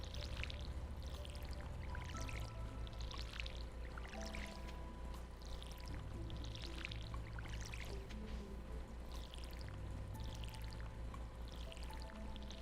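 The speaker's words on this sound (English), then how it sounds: "It's just the way I water the plants." Watering plants in Stardew Valley: repeated soft pouring splashes from a watering can, arriving in a steady rhythm every couple of seconds over constant background game music, with no talk.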